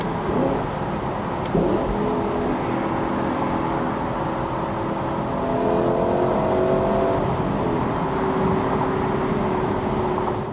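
A Lexus sports car engine revs steadily with rising and falling pitch as the driver drops through gears, the blips of the downshifts sounding smooth and continuous from inside the cabin.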